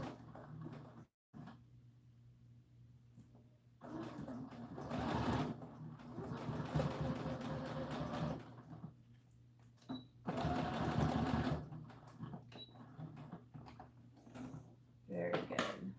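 Sewing machine running in several bursts as ribbon is stitched along the edge of a doll dress, its steady whirring hum close and clear, with a voice talking quietly between the bursts.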